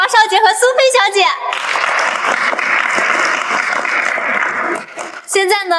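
Audience applause swells for a duet of a male and female singer at a charity fundraising gala, a dense sustained roar of clapping framed by an announcer's voice before and after.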